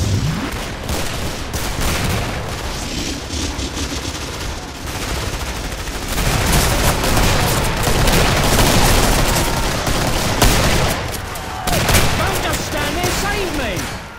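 A big gun in the video game Killing Floor fires in dense, sustained bursts, loud and close, with booming impacts and voices speaking over the chaotic gunfire throughout.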